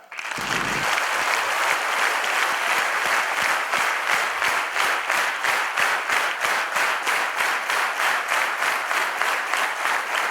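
A hall full of students at Sri Balaji Society bursts into loud, sustained applause that settles into a rhythmic, synchronized clapping pattern, with no talk over it.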